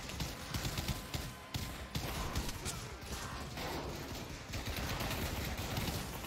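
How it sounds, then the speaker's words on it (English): Dense video-game gunfire rattles on without pause, with bursts and metallic pings of bullets scattering everywhere, loud and close throughout. "Bullets just pinging out everywhere."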